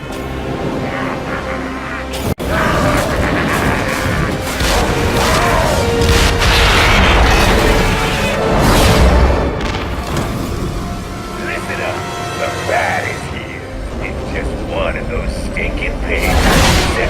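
Bombs exploding in the Batman Arkham Origins video game, low booms and rumbling blasts layered with mechanical clatter and game effects, loud and continuous throughout.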